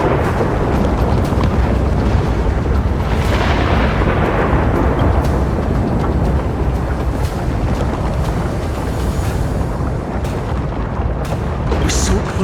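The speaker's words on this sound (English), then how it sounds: "Lightning and thunder." Thunder crashing with a low rolling rumble during a lightning storm in the game Honkai Star Rail, loud and continuous, with a sharp crack near the start and a long sustained roar after it.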